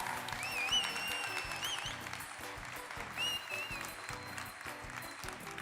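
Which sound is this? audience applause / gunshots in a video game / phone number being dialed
audience applause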